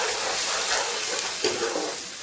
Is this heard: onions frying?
yes